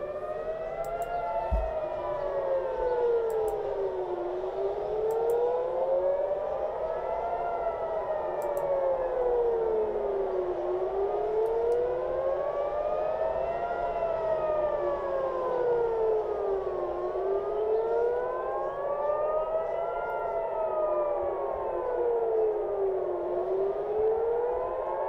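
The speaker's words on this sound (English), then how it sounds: "You will be hearing sirens probably in the next couple minutes." Civil defense air raid sirens in Tel Aviv wail with a slow rising and falling tone, several overlapping sirens cycling steadily and loudly for the whole stretch, no voices.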